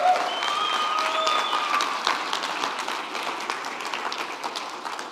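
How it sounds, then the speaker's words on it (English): A church congregation applauds during a sermon, steady, full clapping from many hands that holds for several seconds and thins slightly toward the end. "Can I get a round of applause?"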